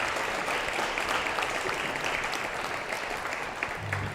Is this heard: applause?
yes